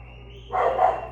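A dog barking in agitation indoors while a football match plays nearby: one short, loud burst of barks halfway through, over a steady low electrical hum.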